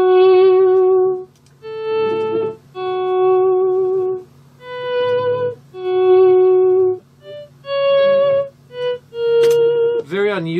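Soft electric guitar volume swells, each note fading in slowly and sustaining before dropping away, played alone in a slow series of separate bowed-like tones for ambience.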